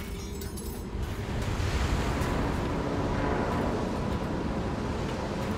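Churning sea water and waves in the game Still Wakes the Deep make a dense, continuous wash of surf and spray, steady and fairly loud from start to finish, with no talking over it.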